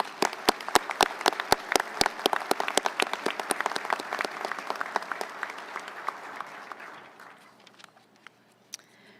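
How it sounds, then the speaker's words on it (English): Audience applause at a luncheon award ceremony for awardees, many hands clapping in a dense, steady patter that slowly thins and fades out near the end. "Please join me in giving a round of applause for our awardees."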